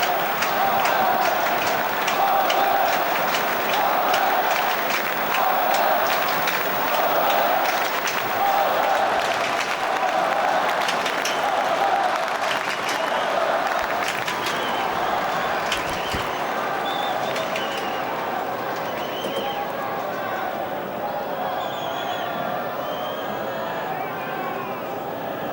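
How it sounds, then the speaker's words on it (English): At the 2007 Roland-Garros men's final between Nadal and Federer, the tennis crowd claps and chants during a change of ends, a loud, rhythmic swell that fades somewhat toward the end under a commentator's talk. "Crowd are doing their very best here at Change of Ends to give Federer a lift, chanting his name"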